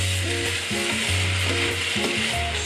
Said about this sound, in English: Stir everything up.